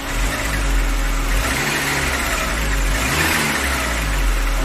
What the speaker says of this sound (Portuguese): Então vamos ver aqui, vou tentar dar uma acelerada aqui.